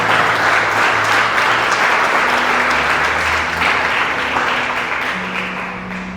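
Sustained applause from a church congregation during a worship service, loud and dense, continuing steadily throughout with a low tonal hum of music or organ underneath and tapering slightly at the end.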